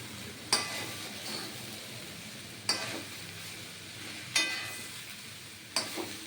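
Cabbage ghanta being stirred in a pan while it fries, with four sharp scrapes of a spatula against metal at regular intervals over a soft steady sizzle.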